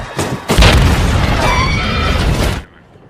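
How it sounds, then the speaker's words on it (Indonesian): A laptop bomb explodes after being thrown clear of an airport in an action film, a loud booming blast that roars on for about two seconds before cutting off abruptly. "berhasil melemparkan laptop itu keluar bandara sebelum meledak"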